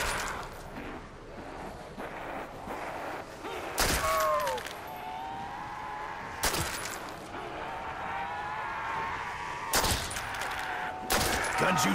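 Gunfire from Call of Duty: World at War, heard as four sharp, loud blasts spread across the stretch, with a steady game soundscape and tonal whines and effects running between the shots.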